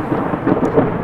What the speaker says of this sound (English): Chad, the lightning I just saw struck right there was ridiculous.